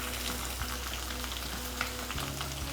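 Fish and potatoes frying over a high flame in a pan, a steady hissing sizzle with faint bubbling pops over a constant low hum from the burner, without any voices.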